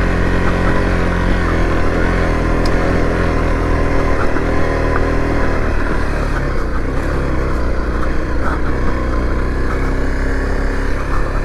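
A Honda CRF250L dual sport motorcycle rides on dirt, its engine droning loud and steady throughout with wind noise, no speech.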